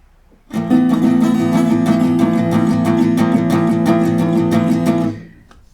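Guitar power chord with all strings played, strummed once and left ringing loud and full for several seconds, with a rapid buzzing tremor in the sustain before it is cut off.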